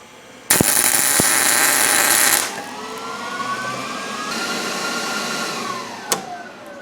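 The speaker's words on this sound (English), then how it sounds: "I'm gonna weld this nut on there" A welder fuses a nut onto a snapped bolt in a wheel hub spindle during Ford Focus rear trailing arm work, giving a loud, steady crackling burst for about two seconds, then a quieter lingering hiss with a sharp tap near the end.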